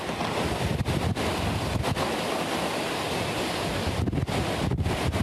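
Roaring, relentless Hurricane Michael winds buffet the microphone in heavy gusts, a constant loud rush with deeper surges, heard from outdoors.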